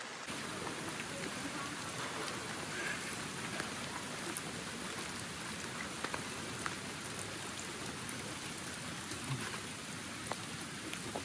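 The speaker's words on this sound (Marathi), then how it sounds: "पाऊस चालू झाला आहे" Steady rain falls throughout on the Devkund waterfall trek, a dense, even patter with scattered louder drops and no pauses.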